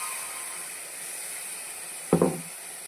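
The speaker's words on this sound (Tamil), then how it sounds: "இப்போ அந்த அரைச்சி வச்ச தேங்காய், தக்காளி, பூண்டு தொக்கை அதில் ஊற்றிடுங்க." Ground coconut, tomato and garlic paste poured into masala in a hot pan, a quiet steady sizzle broken by one brief burst of spluttering as the paste hits the oil, then settling back to a faint hiss.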